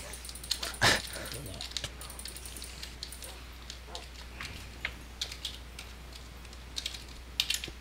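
Video game dogs bark and whimper in short, scattered bursts alongside quick computer keyboard clicks, all fairly faint and intermittent.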